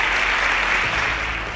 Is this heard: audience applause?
yes